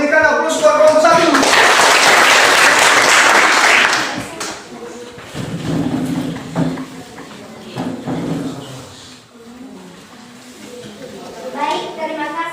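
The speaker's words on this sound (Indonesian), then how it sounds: "Berikan aplaus buat kelompok 1" Classroom applause for a student group, a loud dense burst of many hands clapping for about four seconds, then fading into scattered claps as people speak over it.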